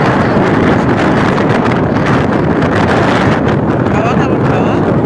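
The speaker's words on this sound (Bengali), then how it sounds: "প্রচন্ড জোর হাওয়া দিচ্ছে, জোয়ারের সাথে সাথে হাওয়াটাও বেড়েছে" Strong wind roars steadily across the microphone at a beach as the tide rises, a dense, loud buffeting that never lets up, with faint voices mixed into the gusts.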